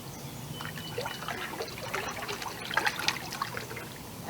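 Canoe paddle strokes pulling through calm water, with soft trickling and dribbling splashes recurring along with each stroke, close by and fairly quiet, without talk.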